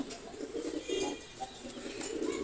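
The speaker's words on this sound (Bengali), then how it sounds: "বেলজিয়ামের ব্লাড লাইনের কবুতর এটা নর" Soft, low cooing of male Belgian-bloodline pigeons repeats in short phrases over a steady background hum, moderately close and fairly quiet.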